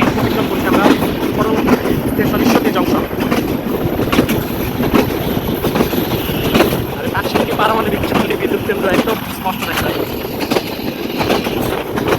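The Chitra Express passes Paksey railway station in Bangladesh, heard from on board as a loud, continuous rumble of wheels and carriages with rhythmic clatter, and a voice talks over it.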